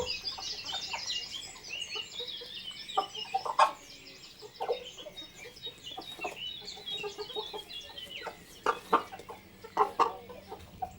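A Bresse rooster clucks repeatedly in a meadow, short, near calls in an irregular rhythm alongside other fowl sounds.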